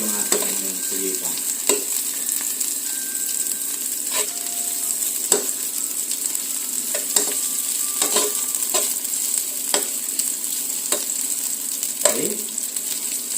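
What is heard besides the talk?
garlic and onion sautéing in a pan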